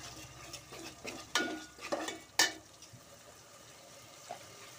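Spice paste of ground cumin is stirred and sautéed in a pan, giving a faint sizzle broken by a few scraping and clinking spoon strokes against the metal.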